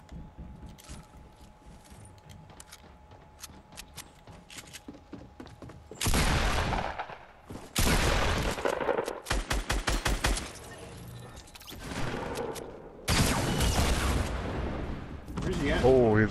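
Gunfire in Fortnite Battle Royale comes in rapid bursts and single shots, loud and close, broken by quieter gaps while players talk over the action.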